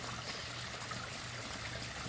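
A waterfall flows into a backyard koi pond, a steady, soft splashing trickle that continues evenly without pause, with a faint low hum underneath and no voices.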